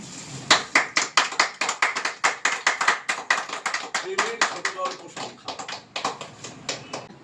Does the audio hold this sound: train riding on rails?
no